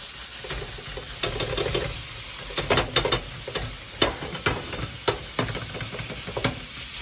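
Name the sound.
ground beef sizzling in a hot pan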